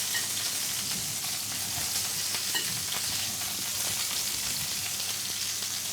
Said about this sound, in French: donc là, on va rajouter les échalotes